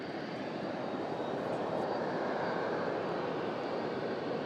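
An Asiana airliner arrives at Sydney Airport with a steady, broad engine roar that holds loud and even throughout, with no talk over it.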